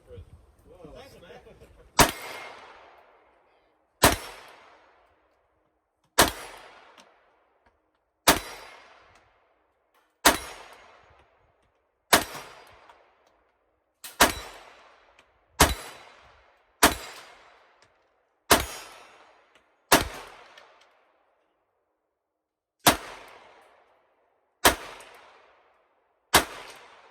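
Gunfire from a rifle loaded with Shield Arms S15 magazines: about fourteen sharp, loud single shots spaced roughly one to two seconds apart, each trailing off in a ringing outdoor echo.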